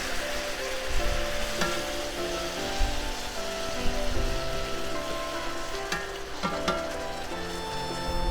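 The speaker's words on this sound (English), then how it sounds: "This is gonna cook really quick, so I'm gonna continually mix and stir" Korean-style flank steak sizzles loudly in a hot pan while being stirred, a dense, steady crackle like rain with occasional scrapes of the utensil, close and continuous without talk.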